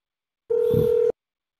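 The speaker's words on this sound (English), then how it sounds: "Can you hear it ringing?" A single short electronic ring tone sounds once, thin and steady as if heard through a phone speaker, then silence.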